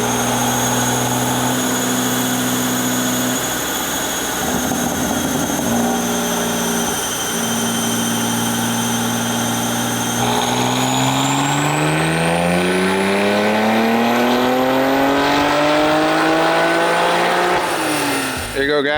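A BMW M2 on stock turbos making about 745 wheel horsepower on a dyno power run, its engine droning loud and close, then climbing steadily in pitch through the upper revs before cutting off at the end.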